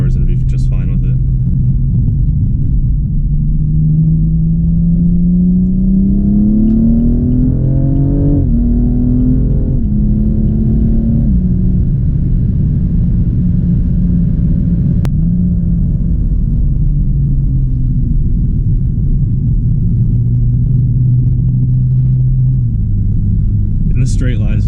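2015 BMW M235i driven in Sport Plus mode, heard from inside the cabin: a loud, continuous engine drone that climbs in pitch through the gears, drops at each shift and then settles into a steady cruise, with a voice talking over it.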